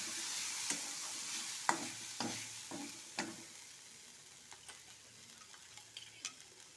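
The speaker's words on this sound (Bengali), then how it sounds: "তো ঢাকনাটাকে খুলে দেবে, নাড়াচাড়া করে নেব।" Spicy semolina frying in a pan on medium heat, stirred with a utensil that scrapes and taps irregularly over a soft, steady sizzle.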